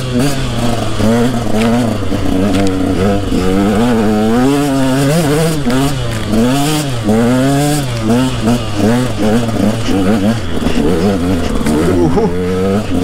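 An enduro motorcycle with stiff suspension revs hard along a rutted dirt trail, its engine droning loud and close with constant rising and falling throttle swells and no pause.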